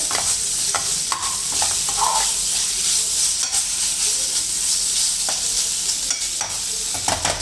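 Chicken fries on high flame with a loud continuous sizzle while a spatula scrapes and stirs the pan in irregular knocks up close, and no one speaks.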